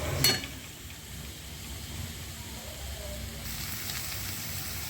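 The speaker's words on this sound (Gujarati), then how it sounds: "હવે આ કોબીને શેકવાનું છે તેલમાં" Shredded cabbage, finely chopped carrot and other vegetables fry in oil over full flame for Manchurian soup, giving a faint, steady sizzle after a brief clatter at the start.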